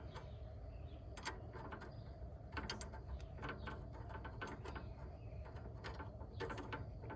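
A ratchet wrench on a car's front passenger-side shock replacement clicks in quick bursts as it tightens fine-thread nuts toward 300 foot-pounds, close and fairly quiet, in irregular runs of rapid ratcheting.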